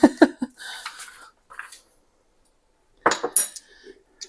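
A spoon mixes garlic paste into a pot of broccoli cheddar soup, making a quick run of metallic clinks and scrapes, then a short pause before another cluster of clinks against the pot.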